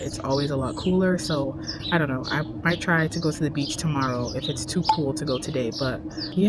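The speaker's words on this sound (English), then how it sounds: "if you guys can hear the birds chirping in the back" Birds chirp and tweet in the background outdoors while a person talks steadily close to the microphone, their calls faint beneath the voice.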